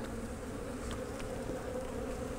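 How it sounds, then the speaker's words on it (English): Honeybee nurse bees buzz steadily over a brood frame during a spring brood box rotation, a close, continuous hum with no voices. "So all these bees are nurse bees and they will not return to the parent hive."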